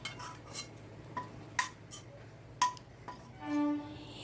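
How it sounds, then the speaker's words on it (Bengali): A metal spatula clinks and scrapes sporadically in a kitchen wok while cooked vegetables are moved into another pot; several sharp, quiet metallic taps are spread over a hushed background, followed by a brief tonal ring. "সবজিগুলোকে আমি খুন্তি দিয়ে অন্য একটা পাত্রের ভেতর তুলে রাখছি।"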